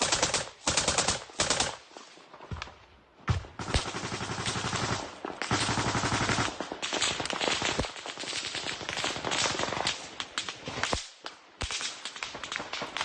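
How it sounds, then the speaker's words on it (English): Gunfire from a rifle held up into the air in Mariupol during the Ukraine war, with loud, close bursts of automatic shots, rapid cracks in clusters and single reports, separated by brief gaps. "they're firing the gun by just holding it up into the air and praying that the bullets go somewhere"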